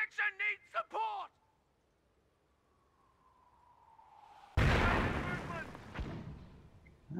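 Booming mortar fire and explosions from the World War I game Company of Heroes: The Great War 1918. A long rising whistle builds, then a sudden loud blast erupts and rumbles on, with short voice bursts heard earlier.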